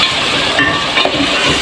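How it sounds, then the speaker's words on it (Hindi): Minced meat frying in a pan with ginger and garlic, a steady close sizzle with a few soft stirring scrapes and no talk. "कीमे को मैं अदरक लहसुन के साथ थोड़ा भूनूँगी"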